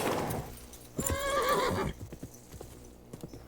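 Horse neighing in the medieval video game Kingdom Come: Deliverance II, a loud whinny rising in the middle, then lighter hoof clip-clops trailing off in the background.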